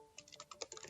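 Quick, light clacking of a computer keyboard as code is typed, a run of about a dozen irregular keystrokes heard close and fairly quiet over a faint steady hum.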